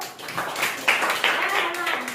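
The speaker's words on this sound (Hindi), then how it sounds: "ताली बजाओ" Schoolchildren in a classroom place-value lesson clap together in a brief burst of uneven claps, mixed with voices in the room.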